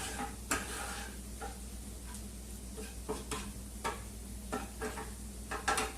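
A utensil scrapes and scrubs food across the surface of a pan that is not non-stick, with steady sizzling underneath and a run of irregular clicks and knocks at close range.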